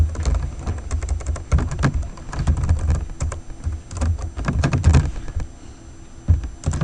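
Rapid, steady typing on a computer keyboard as code is written during a programming lecture, dense clattering keystrokes close up and fairly loud, with no speech.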